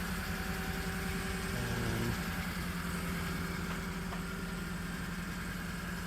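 A 1995 Mitsubishi Bravo Super Exceed van's engine idles steadily, a close, even mid-low hum with a faint shift in tone around the second mark.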